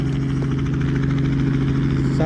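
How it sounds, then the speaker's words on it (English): Helicopter engine at an aerodrome on a busy day, a loud, steady droning hum with a strong tonal buzz, heard up close without pause. "I think this helicopter's speeding up."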